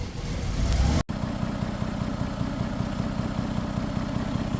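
A Toyota Highlander's 1MZ engine idles after being brought back to running following a failure to start, a steady, close, low mechanical hum that holds evenly apart from a brief dropout near the start.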